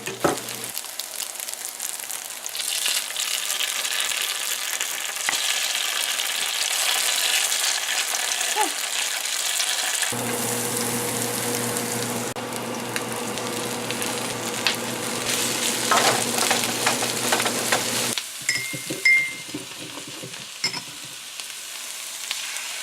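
Tofu slices crisp in a hot pan, giving a loud, continuous close sizzle that swells and shifts as pieces are moved and flipped, with scattered clatter and no voices.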